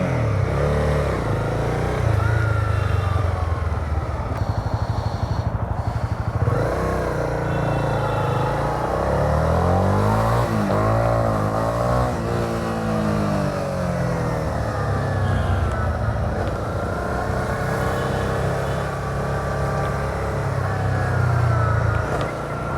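A Honda 300cc motorcycle exhaust note under way, loud and close, with a steady engine drone that rises and falls as the revs shift, sweeping up and down across the middle of the run.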